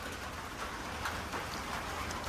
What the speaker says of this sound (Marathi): आता पाऊस काय थांबायचं होईना.